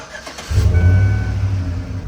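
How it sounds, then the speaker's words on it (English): A car engine is started with the key: a short crank, then the motor catches and settles into a loud, steady idle close by. "the first step is going to be to start the car up. Start the car, put your foot on the brake,"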